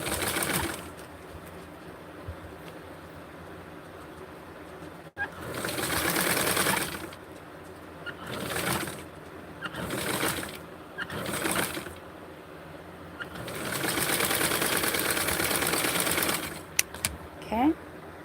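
A sewing machine stitches a small crease in fabric, running in several short whirring bursts separated by pauses, the longest burst near the end, with a person talking softly between runs.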